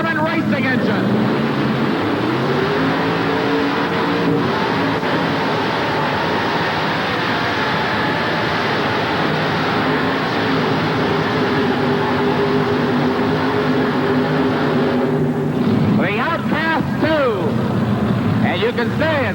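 A pulling tractor with a Waterman racing engine roars loud and continuous at an indoor 1988 tractor and truck pull in Memphis, Tennessee, with an announcer's voice over the engine.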